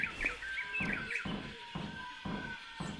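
A bird screeches in the background of the video game Dead Island, faint repeated chirping calls over a soft, regular thumping rhythm in a quiet scene.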